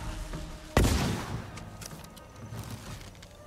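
A single loud gunshot blast in the samurai video game Ghost of Tsushima during a castle assault, with a short rumbling tail and a few fainter scattered cracks and clatters afterward.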